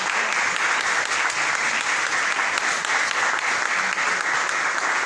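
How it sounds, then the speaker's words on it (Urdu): A youth conference audience applauds steadily and loudly, a dense sustained wash of clapping with no break across the whole stretch. "آپ کی تالیاں رکنی نہیں چاہیے"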